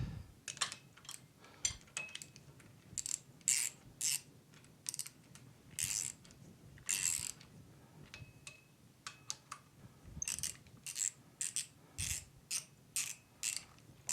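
A ratchet tightening bolts on the final drive of a David Brown DB990 tractor, giving quiet close clicking runs in short repeated bursts with brief pauses between them.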